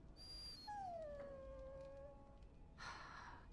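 A dog in the Dragon Age video game lets out a drawn-out whimpering howl that slides downward and fades, followed by a short breathy sound, all fairly faint over a background hiss.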